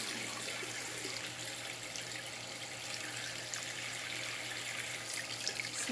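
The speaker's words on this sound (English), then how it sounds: "Turn the water on." Water runs steadily from a tap into a sink, a constant hiss and splash with a low steady hum beneath, with no voices.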